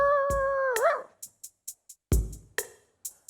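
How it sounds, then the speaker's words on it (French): Several short, sharp dog barks in an irregular series, fairly close, following a drawn-out howl-like tonal call at the start; no talking. "Le chien, il aboie."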